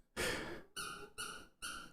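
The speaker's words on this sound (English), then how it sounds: "Squeaky toy." A dog's squeaky toy gives four rubbery squeaks, the first a long wheezy squeeze and the next three shorter, evenly spaced, close and clear with no talking.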